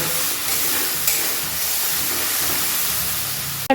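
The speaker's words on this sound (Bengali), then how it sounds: "এবার আমি ভালো করে কষে নেব" Banana flower and prawn masala (mocha chingri) sizzles in a pan, with a constant loud frying hiss and a brief clatter near the end.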